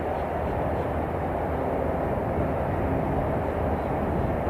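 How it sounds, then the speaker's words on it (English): A 7 Air Cargo airliner arriving from Havana at Miami International Airport, its jet engines a steady broadband roar heard from some distance, continuous and even throughout with no talk. "7 Air Cargo in from Havana"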